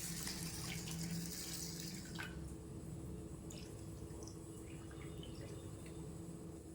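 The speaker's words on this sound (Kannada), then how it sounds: "ಇವಾಗ ನೋಡಿ ಬೌಲ್ ತುಂಬ ನೀರನ್ನ ಹಾಕಿ ನೆನೆಯೋದಕ್ಕೆ ಬಿಡ್ತಾ ಇದ್ದೀನಿ." Water runs from a tap into a bowl to soak moong beans for sprouting, a steady close splashing stream with a few brief drips and clinks, no voices.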